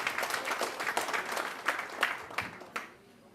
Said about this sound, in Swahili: Wape makofi ya Mike.